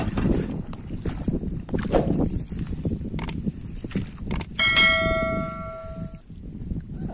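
A hand tractor works a wet rice paddy in Central Java, with a continuous low engine rumble and churning under outdoor noise, and a sustained ringing metallic tone cutting in toward the end.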